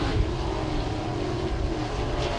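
Sprint car engines roar steadily at a speedway during heat racing, a dense continuous drone of several cars accelerating together at mid distance, with no talk over it.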